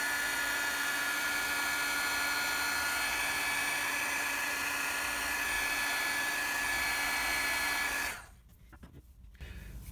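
A heat gun shrinking heat shrink tubing onto a cable in a campervan water tank fit-out, a loud steady whirring blower hiss with a whining tone that runs evenly before cutting off abruptly near the end.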